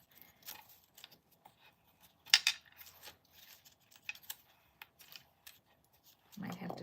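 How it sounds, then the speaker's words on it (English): Scissors trimming a tiny sliver off decorative paper during card crafting, a few quiet snips and paper rustles near the mic, with a voice briefly at the end. "trim this one a tiny smidgen so it's the same"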